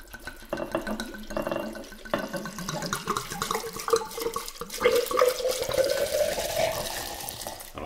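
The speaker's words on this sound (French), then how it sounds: "on la glisse dans le bocal et on va verser donc nos 1 litre de Calvados" A litre of Calvados poured into a glass jar, a close, steady gurgling splash whose pitch rises as the jar fills, running continuously for several seconds.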